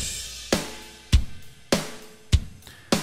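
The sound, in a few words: plain rendered drum track without effects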